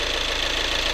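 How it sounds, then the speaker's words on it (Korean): A Volkswagen Tiguan diesel engine idles just after starting during an engine flush, giving off a steady, loud, close rumble with a fine knocking texture throughout. "자, 지금 시동을 걸었습니다."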